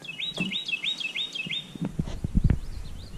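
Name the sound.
bird chirping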